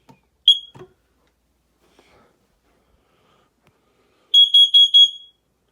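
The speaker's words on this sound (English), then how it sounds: "The smoke alarm." A smoke alarm under test gives one short piercing beep, then after a pause a loud run of four rapid shrill beeps, with faint rustling and sniffing sounds in between.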